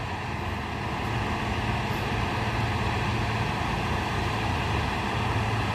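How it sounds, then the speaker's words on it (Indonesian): A Hino tronton dump truck drives along a hillside road, giving a steady, even drone of engine and road rumble at moderate distance, with no talking. "Ini satu unit truk Hino"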